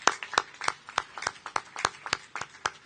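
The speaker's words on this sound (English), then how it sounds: "you should give it applause, it's a big thing" Applause from a crowd at the unveiling of New York City's first electrified Citi Bike charging station, a steady run of sharp, fairly close hand claps at an uneven rhythm.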